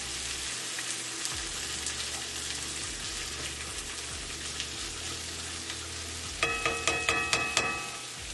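Shakshuka base with garlic frying in a pan, a steady soft sizzle that runs throughout, followed near the end by a quick burst of rhythmic stirring scrapes, with no voices.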